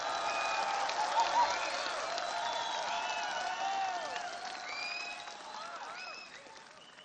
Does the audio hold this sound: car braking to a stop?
no